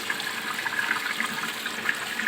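Water pours down strongly in an aquarium sump filter during backwash, a steady close hissing rush with no pauses.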